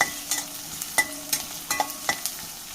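Shallots and onions frying in a pan for a Kerala-style clam meat roast, a close, continuous sizzle with quick, repeated spoon strokes scraping and stirring through the mix.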